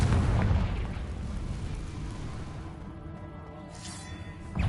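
A Confringo fire spell explosion in Hogwarts Legacy, a deep rumbling burst at the start that fades into a low, roaring tail, with another boom rising right at the end.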